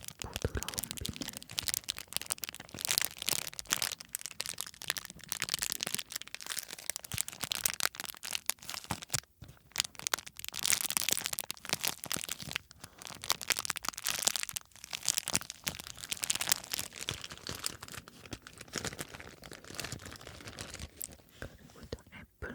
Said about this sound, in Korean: 되게 부드러운 비닐.